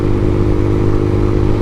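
AJS R7 125 sports motorcycle engine held at full throttle, a loud, steady buzzing drone recorded close to the rider, with no break in the note.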